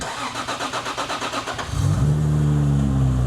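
A Dart-block 2JZ engine in a Toyota Supra cranks with a rhythmic starter whir for about a second and a half, then fires and settles into a loud, steady, throaty idle close by.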